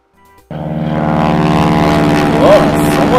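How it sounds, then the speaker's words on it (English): A low-flying propeller airplane in a Berenstain Bears learning game roars in suddenly after soft music and holds as a loud, steady engine drone with a faint rising pitch. "someone's flying a plane low."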